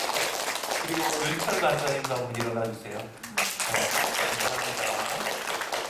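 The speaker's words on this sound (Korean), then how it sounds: "우리 박수로 한번 격려하겠습니다" Church congregation at a Wednesday Bible study applauding to encourage staff members, a dense steady wash of clapping running throughout, with a voice speaking over it.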